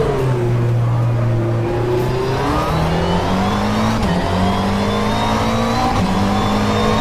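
A race car in a sim racing game: a loud, close engine drone whose pitch falls as it slows for a corner, then climbs again on the power, alone with no talking.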